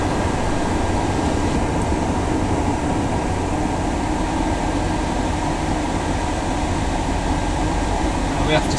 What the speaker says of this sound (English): Let's have some aircon on.